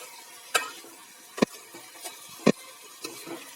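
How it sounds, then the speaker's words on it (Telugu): Chicken is stirred in a pan over a soft background sizzle, with a few sharp utensil scrapes and clacks against the pan at irregular intervals, close and without talk. "చికెన్ బాగా కలుపుతూ ఉడికించుకోవాలి."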